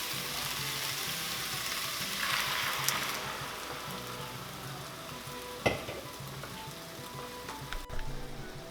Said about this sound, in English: I'm going to let that Guinness beer cook down and cook into the sausages.